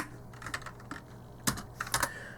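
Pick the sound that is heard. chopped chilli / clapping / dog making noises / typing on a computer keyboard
typing on a computer keyboard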